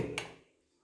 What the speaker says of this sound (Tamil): ஒரு சுவிட்ச் ஆன் பண்ணுற சத்தம்